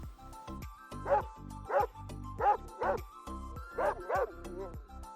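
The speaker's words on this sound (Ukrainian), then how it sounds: "це собачка." A dog barks repeatedly, about seven sharp barks in a steady rhythm, close and clear over a faint tonal background.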